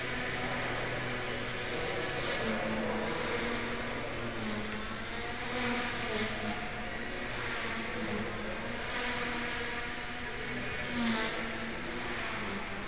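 Blade mCPX RC helicopter fitted with a Wowhobbies 915-14 V2 brushless motor and 10-tooth pinion, held at full throttle indoors: a loud, steady high-pitched whine with buzzing harmonics that wavers slightly in pitch throughout.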